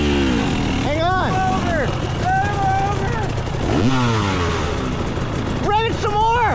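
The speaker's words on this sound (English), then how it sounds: "Rev it some more!" A GasGas EC300 two-stroke dirt bike engine revs up and down in several sharp blips, its pitch sweeping high and falling back over a steady idle, loud and close.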